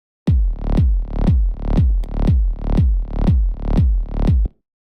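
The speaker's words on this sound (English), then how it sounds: "you hear how it's kind of not letting the bass come back soon enough because we've just lowered the threshold down so much" Sidechain-compressed EDM bass with a heavily lowered threshold pumps in a steady, loud rhythm. Each of about nine pulses is squashed hard at the hit and swells back slowly, giving a choppy, breathing pattern before stopping.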